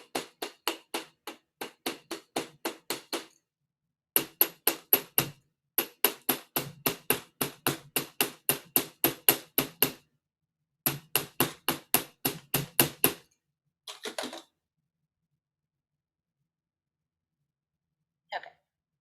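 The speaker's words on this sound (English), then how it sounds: "Now you can also use the ball peen to make more surface and then hammer it flat with that." Ball peen hammer flattening wire pins on a hard surface, bright metallic taps struck in quick, even runs of a dozen or more, with short pauses between runs and a last lone tap after a gap.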